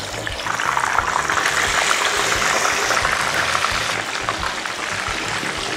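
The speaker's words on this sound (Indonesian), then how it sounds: "Sekarang kita ngegoreng. Langsung kita goreng guys." Chicken pieces fry in hot oil, giving a steady, dense hiss and crackle of bubbling oil that holds an even level throughout, close up, with no talking.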